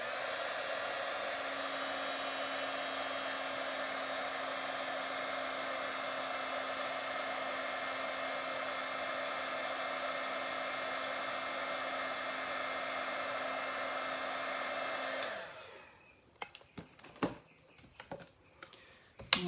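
A heat tool blows with a steady, loud high whine while melting embossing powder on a card, then switches off abruptly, leaving a few scattered small clicks and knocks.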